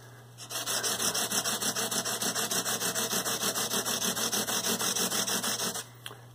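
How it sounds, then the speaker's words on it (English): Guitar frets being sanded with 220 grit sandpaper, a quick steady rasping rub of rapid even strokes, close and continuous for several seconds before stopping, over a low steady hum. "So that sandpaper is definitely getting on the edge of each fret."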